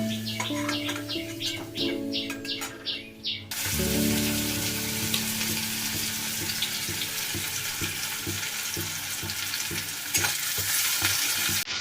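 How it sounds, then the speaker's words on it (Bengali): Potatoes frying in a pan until reddish-brown, with music at the start giving way to a loud, close, continuous sizzle with occasional stirring clatter. "আলুগুলো আমি এবার ভালো করে লাল লাল করে ভেজে নিই"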